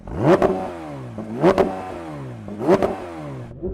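A car with a GV Performance Gentani exhaust revs three times in sharp, loud bursts, each rising and then settling back to a steady idle, close by and with no voices.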